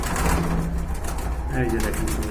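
Pigeons kept for sale coo in a low, throaty run close by, with a person talking over them.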